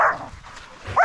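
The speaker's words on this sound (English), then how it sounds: "Good dogs, good dogs." Hunting dogs bark at a bailed trophy boar in the Cape York bush, two sharp close barks with a brief gap between them.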